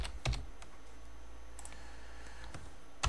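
Keys on a computer keyboard click in short sparse bursts as text is typed, close and fairly quiet, with pauses between the keystrokes.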